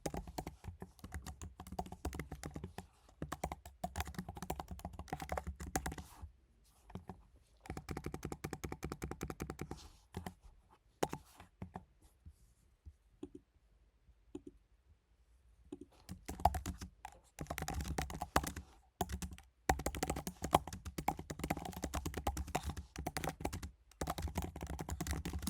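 Someone types on a computer keyboard while filling in an online form, producing dense runs of rapid key clicks. The typing is broken by short pauses and a quieter stretch in the middle, and it sounds close and steady with no talking.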